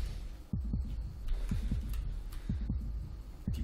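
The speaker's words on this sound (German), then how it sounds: "Hört die ganze Zeit seinen eigenen Herzschlag" A player character's heartbeat in the survival video game Miscreated, a steady low double thump repeating about once a second, close and prominent over a faint hum, with no talking.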